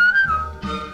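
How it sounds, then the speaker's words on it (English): A single short, bright whistled note with a slight pitch glide, heard loud and close against a soft backing within a song. "give a little whistle, give a little whistle"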